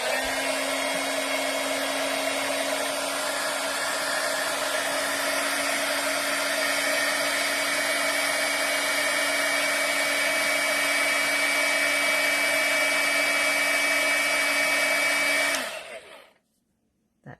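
A heat tool runs steadily for about fifteen seconds while melting embossing powder on a card, a loud constant whirring blow with a high whine that cuts off abruptly near the end.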